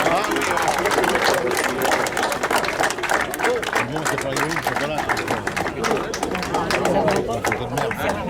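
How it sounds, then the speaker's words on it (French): A crowd at a world championship of mussel stuffing applauds the winners with loud, dense clapping that runs steadily throughout, mixed with cheering and voices. "Je pense qu'on peut les applaudir bien fort."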